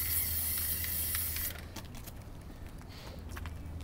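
Plasti Dip sprays from an aerosol can in a loud, continuous, close hiss for about a second and a half, then drops to a quieter, patchy hiss with small spits and clicks.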